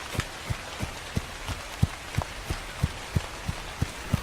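Red rain falls in a steady broadband hiss in a dark horror audiobook scene, with evenly spaced soft thuds, like running footsteps, repeating about three times a second throughout.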